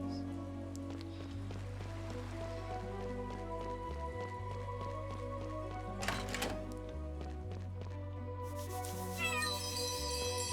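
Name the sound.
cat meowing in the video game Chained Echoes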